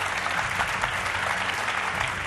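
Studio audience applause at a Hindi television news debate show, a steady, dense clapping that fills the whole stretch at an even level with no voices over it.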